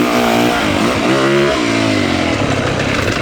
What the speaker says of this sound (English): Wheel chatter happens when you do the perfect amount of rear and front brake together.